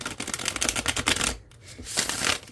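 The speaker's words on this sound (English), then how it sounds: "let me go ahead and shuffle this. I have been riffle shuffling." Two bursts of rapid, crisp riffle shuffling of an Oracle of Many Paths oracle card deck, a long fluttering run followed by a shorter one after a brief pause, close and fairly loud.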